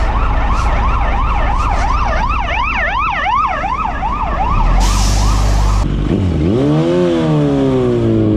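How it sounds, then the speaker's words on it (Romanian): An ambulance siren wails in city traffic behind a car, loud and close, its rising and falling tone cycling steadily before shifting to a different siren pattern, with engine rumble underneath. "Aoleu, și ambulanța în spate."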